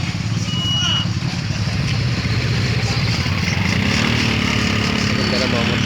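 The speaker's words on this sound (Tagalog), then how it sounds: "Ganda na mga motor. Mga sosyal lang motor." Motorcycles rumble past on a street in Matnog, Sorsogon, a steady loud engine drone with no break, mixed with voices and background bustle.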